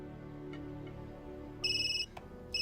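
A cell phone at a dinner table rings in a short electronic trill, two bright bursts over faint background sound, fairly quiet and with no talk.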